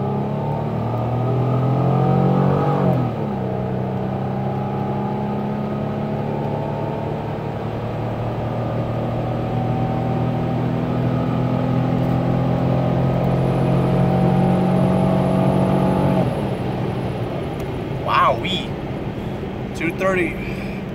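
A 2004 Pontiac Grand Am with a 3.4 V6 and 230,000 miles accelerating hard from a stop, engine droning and climbing in pitch through shifts, heard from inside the cabin with occasional voices.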